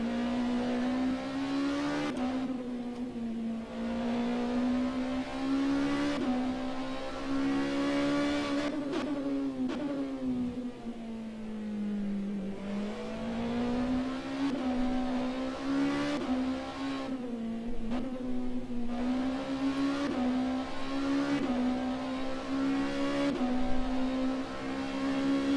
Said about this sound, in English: Very aggressive on the downshifting.